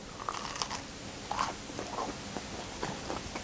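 A bite into a crunchy grilled cheese sandwich filled with bacon and avocado gives a few close, crisp crunches and chewing sounds in a quiet room.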